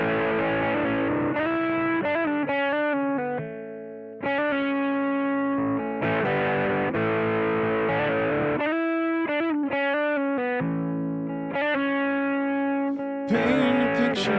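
Electric guitar played through reverb and distortion effects, sustained chords and single notes ringing with a long wash of reverb, loud and close, alone without any voice, introducing a song.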